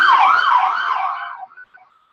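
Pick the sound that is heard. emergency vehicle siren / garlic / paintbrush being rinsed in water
emergency vehicle siren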